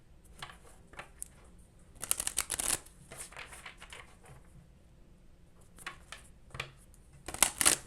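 Tarot cards shuffled by hand close up, a series of quick papery riffles and taps coming in bursts, with louder flurries near the middle and end, fairly quiet overall and with no talking.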